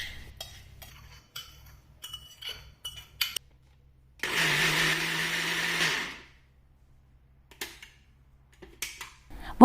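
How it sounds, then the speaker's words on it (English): A blender whirs steadily for about two seconds, blending berries with sugar for a berry shrikhand, with scattered kitchen clinks and taps around it. "to the berries I add in 100 grams of sugar and blend"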